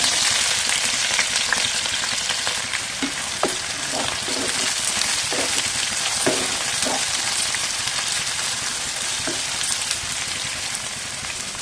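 Green chillies and onion frying in well-heated oil hiss in a steady, bright sizzle, with occasional soft pops and stirring clatters scattered through it.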